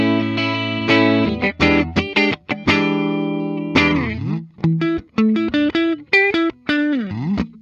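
A 2016 Gibson Les Paul Custom electric guitar on its middle pickup position rings out with a distorted tone. It plays sustained chords, then a run of short, choppy notes and bends, loud and alone.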